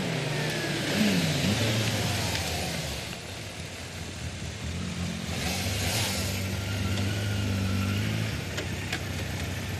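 A motorcycle engine is revved hard during a riding lesson, with its pitch swelling and falling over a steady, moderately loud engine drone that runs throughout.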